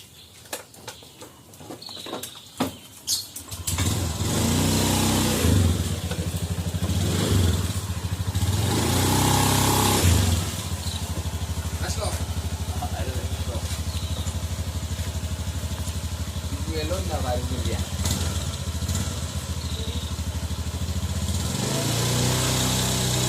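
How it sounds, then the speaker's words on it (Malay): A motorcycle engine starts up after some clatter and then runs steadily and loudly for the rest of the ride, with a low, even drone and occasional shifts in pitch. "Kita naik motor saja."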